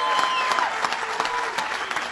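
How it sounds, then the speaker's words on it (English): A stadium crowd at a Buffalo Bills home opener claps and cheers in a steady, dense wash of applause that carries on without a break. "Let's give him a round of applause."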